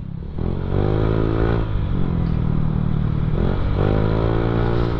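A motorcycle engine drones loudly and continuously while riding, its pitch rising and falling as it shifts through gears, with wind noise throughout.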